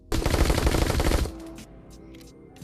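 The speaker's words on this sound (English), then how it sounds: "This thing also has the fastest fire rate out of any gun. Look at this. Shoots very fast." Rapid automatic gunfire from a fast-firing gun in The Walking Dead: Saints & Sinners video game, a loud dense burst for just over a second, then a quiet tail with faint mechanical clicks.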